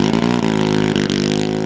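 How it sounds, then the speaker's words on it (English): Small engine of an AAI RQ-7 Shadow UAV revving hard on its pneumatic launcher before takeoff, a loud, close, steady buzzing drone with brief dips in pitch, no voices. "The engine roars as it prepares to launch into the sky to perform a remote reconnaissance mission."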